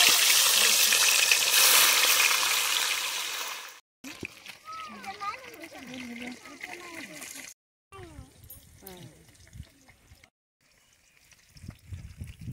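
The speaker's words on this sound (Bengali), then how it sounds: "এবারে মাছটা তেলের মধ্যে দিয়ে দিচ্ছি" Rohu fish hits hot oil in an outdoor village picnic cooking setup, giving a loud, hissing sizzle for several seconds before it fades under scattered voices and short breaks in the sound.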